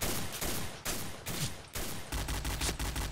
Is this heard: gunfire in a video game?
yes